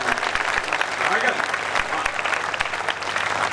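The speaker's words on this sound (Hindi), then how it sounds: "एक बार जोरदार तालियां बजाकर" An audience at a Hindi kavi sammelan poetry gathering breaks into sustained, dense applause that stays loud throughout, with a voice speaking over the clapping.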